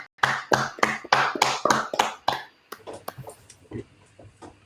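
Attendees at a virtual tech event applaud with a quick run of sharp, close claps, about a dozen loud hits that then thin into a few scattered, fainter claps and taps.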